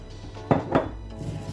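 Clinks of utensils against a bowl while vegetables are mixed with coconut oil for roasting with chicken, carrots and potatoes: two sharp knocks close by, then softer scraping.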